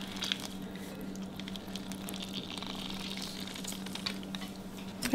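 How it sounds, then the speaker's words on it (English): Lemon juice being squeezed by hand into a mixing bowl for lemon bars, a soft, steady wet squishing and patter of juice running close by, with no talking. "we're going to squeeze the rest of our lemon juice in here"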